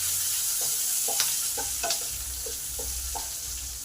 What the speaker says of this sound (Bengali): পেঁয়াজ আর ক্যাপসিকটা আমার ভাজা হয়ে গেছে